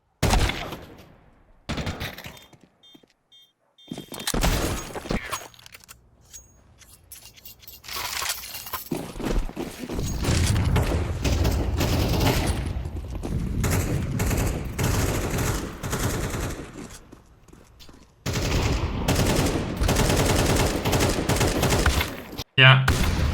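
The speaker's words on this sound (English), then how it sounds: "Then you adjust, you start shooting, but he shot first because you're low" Gunfire in Counter-Strike on the Mirage map, bursts of rapid automatic shots and crackling fusillades over several stretches, with gaps of near silence and game sounds between them, played loud and close.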